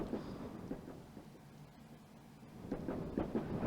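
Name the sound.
train carriage rattling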